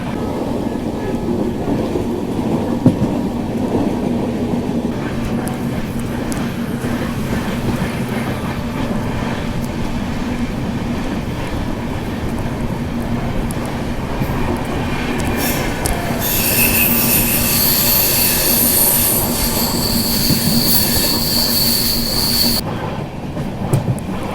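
Mysuru–Delhi Swarna Jayanti superfast express train rolling steadily, a continuous loud rumble of wheels on rails with high metallic squealing rising in the latter half and sustained near the end.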